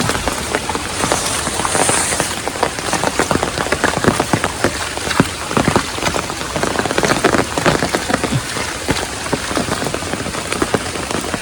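Heavy morning rain pours down steadily by a riverbank, dense drops pattering hard on surfaces with constant crackling texture throughout, no voices.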